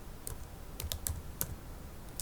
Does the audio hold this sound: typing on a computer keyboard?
yes